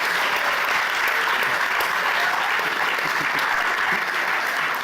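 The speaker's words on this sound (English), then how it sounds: "so give yourself a round of applause." Steady, dense applause from a large audience, loud and sustained throughout with no pauses.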